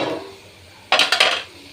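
Chopped vegetables, including potato and pointed gourd, are tipped into a cooking pot of browned ingredients, making a sudden, close, clattering sizzle in two quick bursts that fades within half a second.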